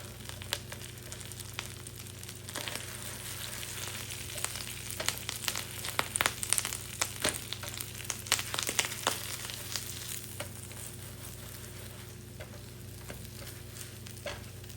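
Everything bagels soak in plenty of butter in a frying pan, giving a steady, crackling sizzle with bursts of sharper pops and spatters, close and moderately quiet, and no voices over it.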